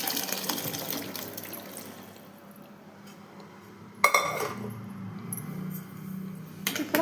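Boiled kabuli chickpeas tipped with their cooking water into a pan of curry, giving a close, loud splashing pour with clatter of a pot and utensil, no voices.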